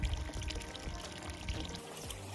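A small solar-powered bilge pump moving about 2.3 gallons a minute pushes water out of a boat in a steady, splashy pour, close and continuous for a couple of seconds.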